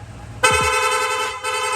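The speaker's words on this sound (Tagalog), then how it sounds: "Ayan. Rapid horn." A loud motorcycle horn on a Honda ADV 160 with a rapid-horn setup blares close by in one sustained blast, briefly dipping near the end before sounding again.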